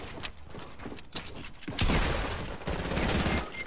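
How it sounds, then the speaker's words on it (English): Rapid bursts of video game gunfire rattle in quick succession, breaking into a dense, loud volley midway that fills the rest of the moment, with no voices. "He's shooting me."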